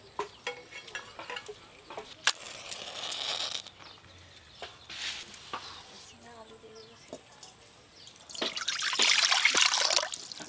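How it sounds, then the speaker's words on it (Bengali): Mutton and chicken pieces are washed in water, with trickling, splashing and handling sounds close by, a stronger rush of running water near the end, and a person speaking intermittently. "আমি এই যে দু রকম মাংস ধুয়ে নিয়ে আসি"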